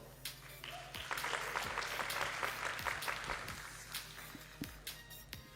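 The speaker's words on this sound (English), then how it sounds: "please give another warm round of applause for Miss Witida Jungvirod as well." An audience at a music competition claps in a scattered round of applause, the pattering rising to a steady burst and then thinning to a few isolated claps.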